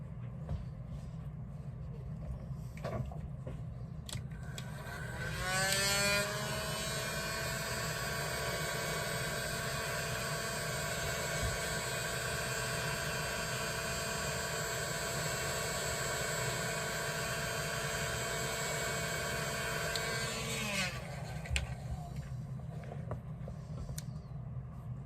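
A heat gun warms a glued leather corner, its fan motor switching on with a rising whine and steady loud hiss, holding for about fifteen seconds before spinning down.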